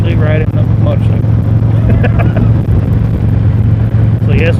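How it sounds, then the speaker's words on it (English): A motorcycle engine drones steadily while riding at the Sturgis Rally, a loud constant low hum with wind noise, with a rider talking over it throughout. "I'm actually riding a motorcycle."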